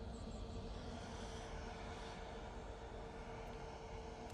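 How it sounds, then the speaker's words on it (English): An EasyJet airliner takes off from Manchester Airport bound for Athens, a broad steady jet roar heard from a distance, sustained without break. "EasyJet, this one's off to Athens"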